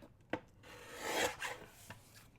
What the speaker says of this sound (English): I'm just going to trim this side off since I don't have anything to lose on that side, basically.